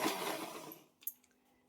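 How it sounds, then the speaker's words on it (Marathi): A mixer grinder whirring as it grinds a milk mixture for malai kulfi, loud and close for about a second before winding down, followed by a few light clicks and a brief restart. "आता आपल्याला हे मिक्सरमध्ये, आता निशे मिक्सरमध्ये दळेल."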